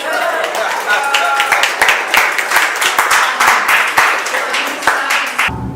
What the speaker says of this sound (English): Applause will be appropriate